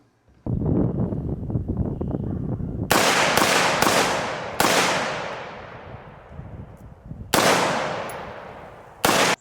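An Aero Precision AR rifle firing through a magazine outdoors: several loud, sharp shots in an uneven rhythm, some in quick succession, each followed by a long ringing decay, with a low background rumble before the first shot.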